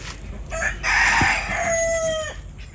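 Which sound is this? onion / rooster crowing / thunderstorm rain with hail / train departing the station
rooster crowing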